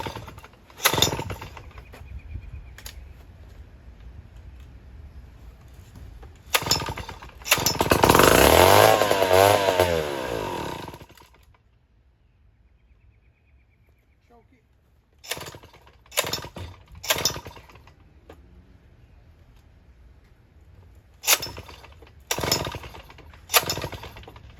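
A gas chainsaw pulls over several times in short bursts, then fires and roars loudly for a few seconds before dying, followed by more sharp pull-start attempts, all up close.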